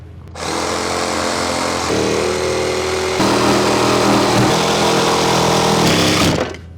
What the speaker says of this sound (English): I'm going to get my jigsaw and start cutting this section out